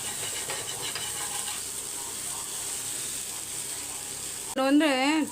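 Ingredients for a prawn thokku and kanangeluthi (mackerel) fish fry dry-frying in a pan without oil, a steady hiss and sizzle throughout, ending in a brief louder burst of a voice or tone.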